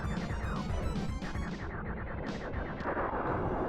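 Rapid gunfire and a booming explosion from a boss fight in the Star Fox video game, loud and dense throughout with sharp bursts of blasts layered over constant rumbling game sound, no voice.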